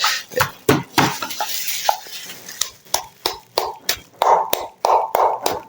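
Ginger pounded and crushed to make medicine, heard as a series of sharp, regular thuds and knocks, about a dozen close blows with a steady rhythm and no talking.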